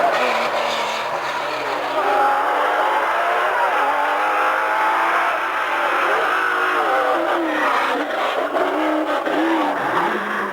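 A Porsche rally car at the 1993 Rallye de Saint Marcellin races along a stage, its engine droning and revving steadily throughout, with possible tyre noise and a commentator's voice running beneath.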